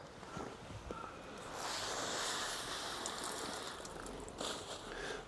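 Water rushes and splashes steadily over a freshly picked eggplant from a summer garden, a soft, hissing wash heard fairly faintly and alone.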